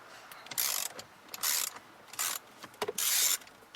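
Ratchet wrench clicking in four loud bursts while loosening a steering wheel bolt on a 2008 Nissan Altima, each burst a rapid, close ratcheting rattle separated by short pauses.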